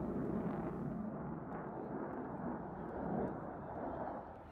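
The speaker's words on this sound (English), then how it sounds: "This was an Indian built aircraft called Tejas." An Indian-built Tejas fighter jet flying at the Aero India air show in Bengaluru: a broad distant roar that swells and fades over several seconds, with faint crowd noise beneath.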